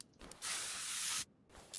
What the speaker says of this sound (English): And spray. Some WD-40.